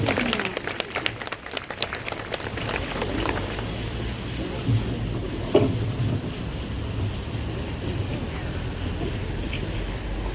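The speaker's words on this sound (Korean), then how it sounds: "박수로 부탁드립니다" An outdoor audience at a Catholic prayer rally claps to welcome a Samsung semiconductor victim's father, a burst of loud clapping that settles into a softer, wind-buffeted murmur.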